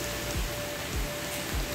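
Rain falling at night outdoors, a steady wash of hiss with periodic low thumps, continuous and fairly close, with no voices.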